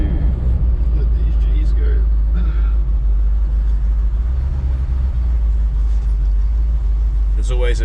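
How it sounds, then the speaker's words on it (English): A 1978 Ford Bronco with a rebuilt 351M engine and hydraulic roller cam rumbles low and steady while driving on the road. Someone talks over the continuous engine drone. "Just touch that throttle and it's straight back on. Nothing. It's just smooth, effortless."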